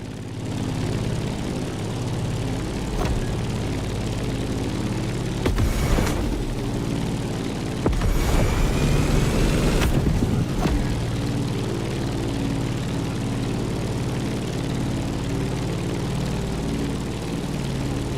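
A propeller airplane engine in The Crew drones steadily as the plane climbs, with a couple of louder surges partway through and no voices.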